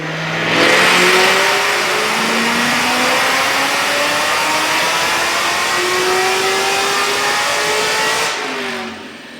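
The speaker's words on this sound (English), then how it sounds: "So check out this dyno pull." A supercharged 2008 Shelby GT Mustang with long-tube headers and a muffler delete roars through a dyno pull, its engine climbing steadily in pitch as it winds up loud and close, then cutting off abruptly at the end.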